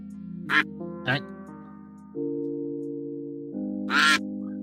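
Three short, close quacks from ducks in a fantasy football draft duck race, spaced apart over a steady tonal hum.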